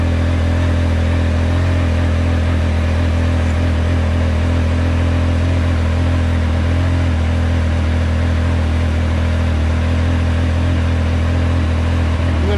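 Triumph Speed Triple 1200RS with an SC Project CRT muffler, engine running steadily with a loud, continuous low throbbing exhaust drone, held close and without clear rises in revs.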